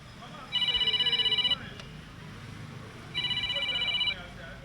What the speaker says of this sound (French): La sonnerie du téléphone portable